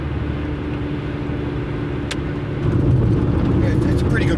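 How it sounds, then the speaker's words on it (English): A Rover 220 car's engine pulls from low revs in top gear, a steady drone that swells louder partway through, with road and wind noise around it and a voice talking over it. "Where I can put my foot down at 2000 revs in top and it"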